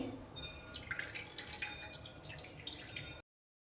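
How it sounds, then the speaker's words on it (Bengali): Water dripping and trickling from yogurt squeezed in a wrapped cloth, a faint close-up patter of small irregular drops for about three seconds before it stops. "এইভাবে মুড়ে ধরে নেব ভালো করে এভাবে চেপে জল বেরিয়ে যাচ্ছে অনেকটাই"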